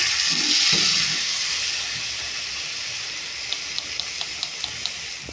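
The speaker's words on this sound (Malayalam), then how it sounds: "വേണ്ടുന്ന രണ്ടാം പാല് ഇതിൽ ഒഴിക്കുകയാണ്" Second coconut milk is poured into a vegetable potato stew as a steady liquid stream with a hiss, fading gradually, then a few light, regular ticks near the end.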